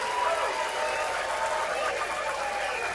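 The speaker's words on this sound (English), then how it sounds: "Hear the cheers coming from table 1." Cheering and applause from a pool hall crowd at a Las Vegas tournament table, where a set has just been won; steady, dense, fairly loud crowd noise runs throughout without a clear break.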